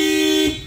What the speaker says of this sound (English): car alarm included, not the factory one